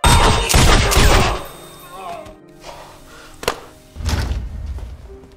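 Several sharp gunshots in quick succession in an action film fight scene, followed by scattered thuds and impacts, with a louder cluster of bangs near the end, loud and near.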